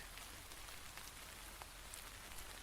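Steady rain falling in a video game, a dense, even hiss of drops on a surface with occasional brighter patters, continuous and fairly close with no talking.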